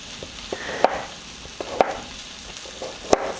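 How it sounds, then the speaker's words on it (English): Baby bella mushrooms and onions sauté on a grill pan with a low, steady sizzle, broken by a few sharp scraping stirs of a utensil against the pan. "we're going to just saute those for a little bit"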